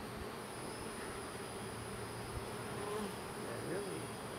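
Honey bees hum as a steady, dense drone during an eight-week beehive inspection, close and continuous, with a few louder individual buzzes passing near.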